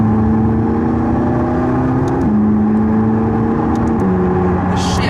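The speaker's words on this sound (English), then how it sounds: "if I press manual and just go down a couple of gears gently here, you get a little bit of noise out of it" A McLaren 675LT engine drones loudly from inside the cabin, its pitch stepping down twice as gears are dropped gently in manual mode, with a few faint ticks and a short burst of noise near the end.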